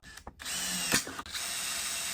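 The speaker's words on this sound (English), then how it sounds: "we're going to start drilling some holes" Power drill boring holes in the plastic fairing of a salvaged, wrecked Kawasaki Ninja ZX6R motorcycle, a short whine starting up then a steady loud high drilling buzz after brief clicks.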